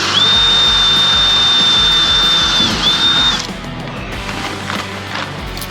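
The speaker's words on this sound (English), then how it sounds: "then I've got to take my drill and go underneath with the washers and the nuts" A power drill whines at a steady high pitch for about three seconds tightening nuts under a pontoon boat, then cuts off, leaving clattering and knocking in a noisy space.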